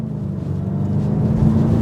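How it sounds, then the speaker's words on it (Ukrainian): A VW Passat B8 GTE hybrid with a 1.4 petrol engine spins its wheels while accelerating hard. A brief, dense roar of engine and tyre noise fills the cabin, loud and steady throughout, with no talking. "Диви, диви, вона просто риє, диви."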